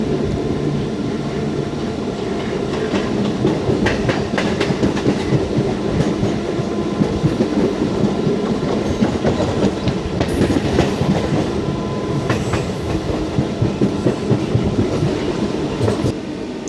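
A steady, loud rumble of a MEMU passenger train running on the rails in Kerala, recorded from inside a second-class coach, with rhythmic clickety-clack of the wheels over the joints throughout and no voices.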